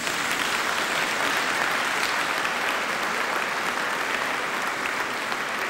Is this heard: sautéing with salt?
no